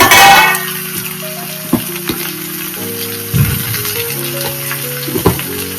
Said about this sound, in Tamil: சொரக்காய் வைப்ப போட்டு நல்லா வதக்கலாம்.